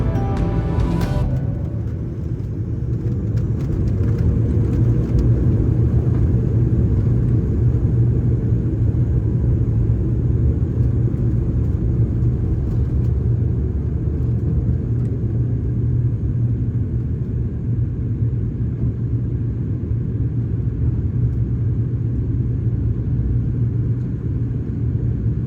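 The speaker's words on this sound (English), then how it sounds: "we were pushed back and taxied our way out to the runway for takeoff" Small passenger plane taxiing out to the runway at London Heathrow, a steady, loud, low engine rumble and drone heard from inside the cabin without a break and with no talk.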